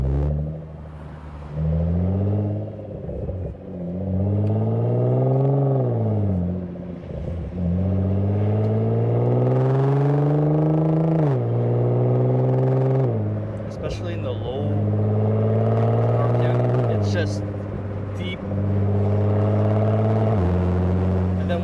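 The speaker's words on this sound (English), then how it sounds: "When I step on it, it really gets to that GTR sound, you know?" Nissan GT-R R35 with an HKS Legamax exhaust revs up and down in repeated rising and falling sweeps, a loud, close, throaty engine note held under the car's cabin rumble.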